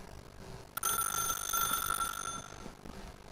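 Telephone in The Stanley Parable video game ringing with a bright, steady electronic trill that starts suddenly and keeps going, clear and alone.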